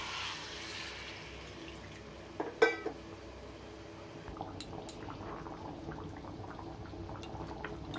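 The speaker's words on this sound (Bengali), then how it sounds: "এবার জল দেব।" Water goes into a pan of egg curry holding boiled eggs fried with turmeric, a faint liquid splash and trickle following a sharp clink of cookware midway.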